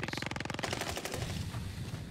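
Rapid automatic gunfire from a Warzone match opens with a fast, evenly spaced burst that gives way to a denser, rumbling volley and echoing fire, loud and close, with no talk over it.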